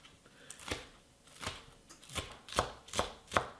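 A knife chops scallion green tops into small pieces on a cutting board: seven crisp, evenly spaced cuts, close and fairly quiet, with no talking.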